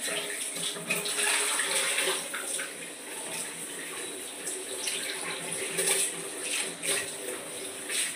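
Water runs steadily from a tap, splashing over soya chunks being rinsed by hand, with occasional louder sloshes close by.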